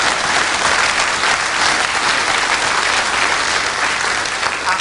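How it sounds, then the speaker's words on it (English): A television studio audience claps in steady, dense applause that holds at the same level from start to finish. "He deserves a round of applause for getting it out."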